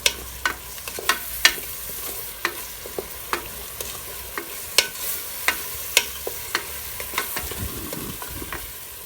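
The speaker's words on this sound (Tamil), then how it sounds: "இப்போ வெங்காயத்தை நல்லா வதக்கிடலாம்" Onions with a pinch of salt being sautéed in a pan for seeraga samba mutton biryani, a steady soft sizzle broken by repeated sharp spoon-against-pan clicks and scrapes at an uneven rhythm, close and alone without talk.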